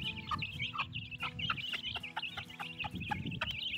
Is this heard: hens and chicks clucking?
yes